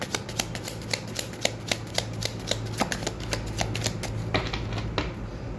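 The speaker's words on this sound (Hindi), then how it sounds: "यहाँ से भी मैं एक कार्ड लूंगी।" Tarot cards being shuffled and drawn by hand, heard as a close, quick run of crisp flicking clicks and soft riffles that keep a steady pace from start to finish, with no talking.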